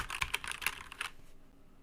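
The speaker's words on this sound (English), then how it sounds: "you've commented many times on my mechanical keyboard's noise" Quick bursts of clacky keystrokes on a mechanical keyboard with worn, dirty keycaps, about five close, crisp taps in a short run before falling quiet.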